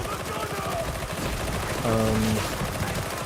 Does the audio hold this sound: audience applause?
no